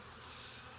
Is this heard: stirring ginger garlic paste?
no